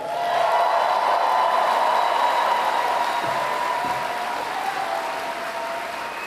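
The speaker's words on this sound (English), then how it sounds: "did I wait long enough for the applause to swell?" A large convention hall audience at a Comic-Con panel for a TV comedy applauds steadily after a cast member's introduction, a broad distant wash of clapping and cheering that gradually eases off.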